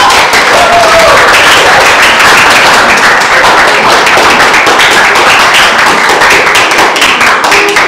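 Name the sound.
audience applause for presenting group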